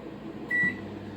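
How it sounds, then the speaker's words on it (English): A microwave oven hums steadily while heating food in a kitchen, with a short single beep partway through. "You just pop them in the microwave for 10 seconds."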